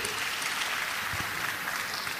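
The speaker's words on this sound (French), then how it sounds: "Je voudrais que vous l'applaudissiez." Dense audience applause at a political rally for a presidential campaign, a thick continuous wash of clapping from a large crowd, steady and unbroken.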